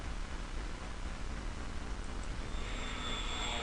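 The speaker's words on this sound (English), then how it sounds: "This is a tactical bomber." A tactical bomber in the Panzer General strategy game gives a dense, steady roar of engine noise and rushing hiss throughout, loud and continuous with no talk.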